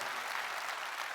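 Brief burst of audience applause at a corporate talk, a dense, even wash of clapping from a crowd, fairly soft and distant throughout.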